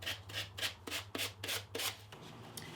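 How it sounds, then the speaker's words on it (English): A sanding block rasps against the bottom edge of a tin can planter to trim it, producing a run of quick, rhythmic back-and-forth scratchy strokes, close and moderately loud, then fading to lighter rubbing. "I'm going to use a sanding block. And this is just going to trim it perfectly right on the bottom of my can"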